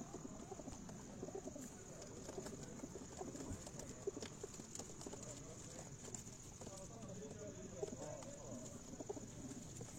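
Soft pigeon coos murmur quietly in the background alongside faint scuffling and shuffling, low and continuous over the full stretch.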